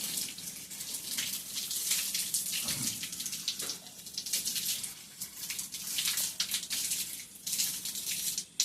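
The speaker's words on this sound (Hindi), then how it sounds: "अब हम 3 मरतबा चेहरा को धो लेते हैं।" Running water from a tap splashes continuously as a face is washed three times during wudu, close and moderately loud, with uneven bursts of splashing.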